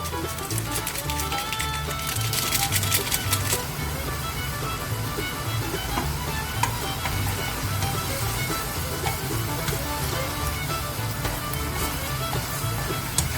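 Jjapaguri noodles being stirred with powdered soup in a pan, a continuous wet sizzling churn with some clatter of the utensil, steady and close throughout.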